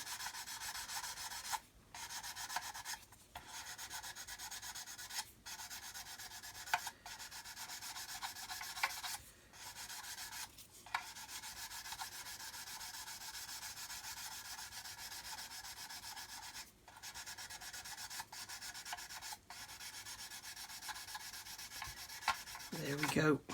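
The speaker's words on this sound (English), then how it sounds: "we can also use this one in between here and just sand that seam there" A worn sanding stick rubs back and forth along a seam on a model build, steady scratchy strokes close up with brief pauses, no talking.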